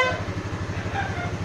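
A short, buzzy electric horn on a 150cc motorcycle sounds steadily for over a second, close and fairly quiet, with a pulsing low hum beneath it.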